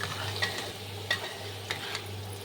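Browned potato pieces sizzle faintly in hot oil for a yam curry while a utensil lifts them out, a low steady hiss broken by a few light metallic scrapes and clinks.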